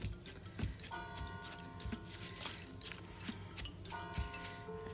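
Steady ticking of a clock with a sustained bell-like tone ringing through the middle, the ticks repeating evenly over a dense background hum, no voices.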